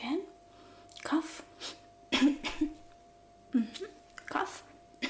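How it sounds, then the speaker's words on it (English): Several short, sharp coughs in separate bursts, close up, with pauses and breaths between them. "Again. Cough."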